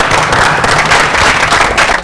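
A studio audience at a televised quiz show on energy conservation gives loud, sustained applause for the winning team, with thick, continuous clapping throughout and no speech on top.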